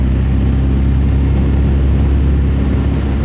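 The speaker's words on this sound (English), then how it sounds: "You want to hear the car, the sound of the engine." An MG sports car's engine and muffler drone steadily from inside the cabin on a country road rally, a loud, even low rumble with no voices.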